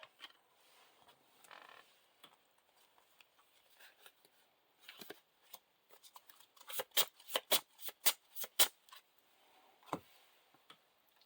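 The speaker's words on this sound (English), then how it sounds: "Shuffle that encounter deck." A deck of encounter cards for the Lord of the Rings card game being shuffled on a table, first faint soft riffles, then a quick run of crisp, close card snaps and flicks, with no voice heard.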